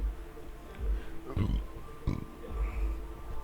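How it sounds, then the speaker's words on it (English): A low, rumbling burp bursts out briefly amid background noise, followed by a second short eructation a moment later. "If you can hear the burp, excuse me."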